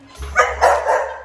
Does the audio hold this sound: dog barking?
yes